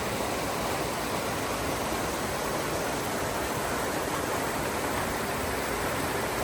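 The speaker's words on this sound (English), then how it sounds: "Pretty nice water crossing here." A stream flowing at a trail water crossing on the Appalachian Trail, a steady, dense rushing hiss that stays constant and close, with no voices.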